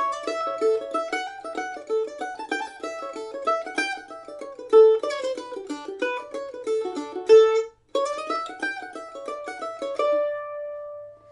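A bright mandolin picks out a quick, lively melody from the B part of the fiddle tune Fisher's Hornpipe alone, with a short pause near the end before a few final ringing notes.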